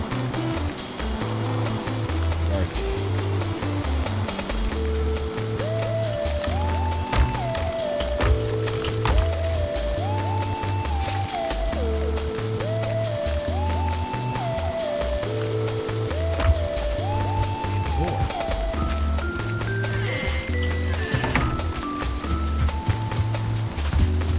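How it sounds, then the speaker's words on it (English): Rain falls steadily in the Viking survival game Valheim, a constant soft patter with a melodic game soundtrack playing loudly over it throughout. "Rain, stop! Your god commands it!"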